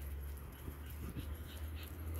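A dog whimpering and yipping while out on a walk, soft, high and close, with several brief cries over a low rumble of passing trucks.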